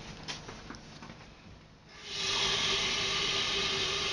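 A chicken stir-fry in a pan bursts into a loud, steady steaming hiss after a quieter start, and the sizzle holds strongly to the end.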